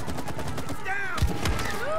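Gunfire in the co-op video game It Takes Two, a few sharp shots and thuds over a busy game soundscape with music-like tones, mixed under people talking.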